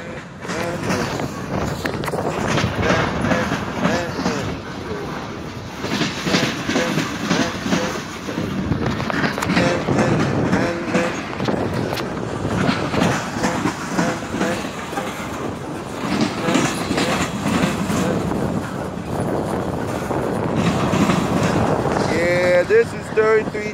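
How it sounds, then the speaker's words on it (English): A long, continuous rumbling of a passing freight train with rolling clatter and wind buffeting the microphone, a voice briefly audible near the end. "Train still going."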